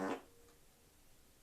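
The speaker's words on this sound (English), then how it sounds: "Yep, I just farted." A single short fart bursts out loudly at the very start, a low buzzy blast lasting about a fifth of a second, then fades into faint room quiet.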